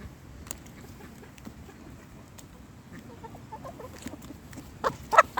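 Chickens on a poultry farm cluck softly and repeatedly in the background, with a few louder, nearer clucks toward the end.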